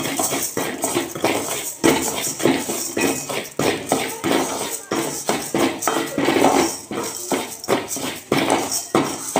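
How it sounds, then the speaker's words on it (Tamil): Sago pearls lightly roasting in a pan for Nagercoil-style adai payasam, with steady scraping and clinking of a spoon against the pan in quick, irregular strokes. "சவ்வரிசியை வறுத்துக்கிடுங்க லைட்டாக."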